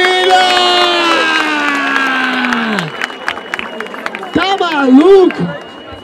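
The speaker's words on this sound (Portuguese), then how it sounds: "Barulho e palmas pra essa batalha, família!" A crowd at a rap battle final in Barueri, São Paulo, cheers and shouts loudly, with a strong sustained voice carrying over the noise and scattered sharp claps in the mix.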